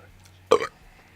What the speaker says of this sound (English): Taco burp.